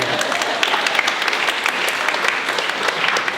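An audience at a university grand opening ceremony breaks into a loud, sustained round of applause, dense steady clapping from a large crowd filling the space without pause.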